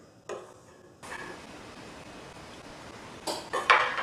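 Metallic clinks and scrapes of chopped food being tipped into a small saucepan, with a couple of sharper knocks near the end; no talking.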